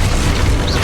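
Expulso explosion spell from Hogwarts Legacy erupting as a loud, dense boom with heavy low rumble, sustained across a brief burst of spell-combat noise.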